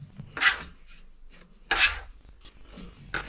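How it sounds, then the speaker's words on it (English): Focaccia dough being folded with a spatula on a floured surface: three separate soft scraping rasps, close and moderately loud, with quiet pauses between them. "We fold it 5 to 6 times with a spatula."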